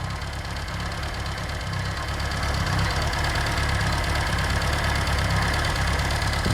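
A car engine idles steadily while warming up to temperature during cooling system work, a close, loud, even rumble with a faint knocking pulse and no talk over it.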